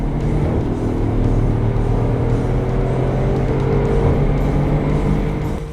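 A Mercedes-Benz GL 63 AMG's V8 rumbles at part throttle from inside the car, a deep, steady, loud drone with no voices.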